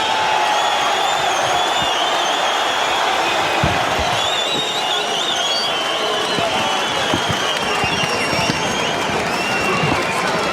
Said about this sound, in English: The crowd is up. Soliman is working the crowd.